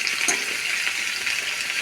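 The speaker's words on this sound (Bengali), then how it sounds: "ওদিকে আমার আলু আর পুঁই ডাঁটাটাও ভাজা শুরু হয়ে গেছে" Potatoes and Malabar spinach stems fry in a pan, giving a steady, close bright sizzle with no voices.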